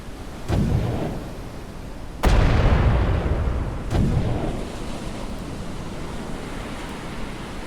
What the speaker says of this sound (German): während jetzt hier die letzten Schüsse fallen